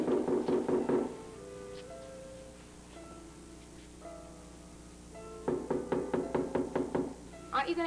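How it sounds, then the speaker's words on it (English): Knocking at a door in a 1973 vintage film scene, with two bursts of rapid, fairly close knocks at the start and again near the end, separated by a quieter stretch of tonal background. "Somebody's knocking at the door."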